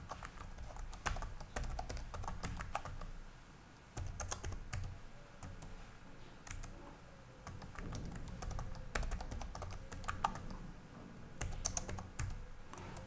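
Quiet, steady clicking of keys as an administrator password is typed on a computer keyboard, a close run of uneven keystrokes lasting several seconds with short pauses, and no voices.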